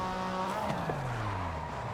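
A Porsche RSR race car in Forza Horizon 5 drives with a steady engine drone whose pitch slides downward as it decelerates, loud and continuous with a faint tire-squeal edge.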